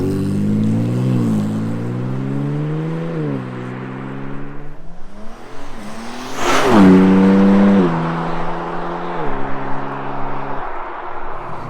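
BMW M3 Touring with a 500-horsepower engine revving and pulling through gears, pitch rising and dropping with each shift, a loud surge of acceleration midway before settling into a steady drone.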